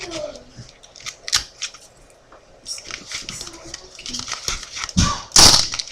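Scissors snipping paper while a handmade envelope is cut out, giving several short, crisp cuts scattered among quieter rustling and handling noises, close and fairly soft.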